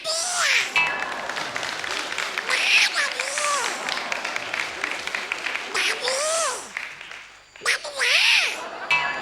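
A performer on a Tamil TV comedy stage show imitates a kitten calling with their voice, making several drawn-out, rising and falling meow-like cries over a steady background of audience applause and crowd noise.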